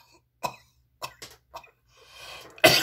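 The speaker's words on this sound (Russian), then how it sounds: "Сейчас мы с вами будем кашлять, но высунем язык." Short deliberate coughs from a person doing a breathing exercise against snoring, with the tongue stuck out: three separate coughs, then a softer breathy exhale and a final louder burst, close and isolated.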